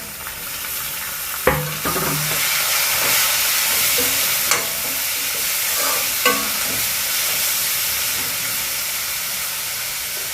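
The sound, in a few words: frying onions with tomato and green chilli in pan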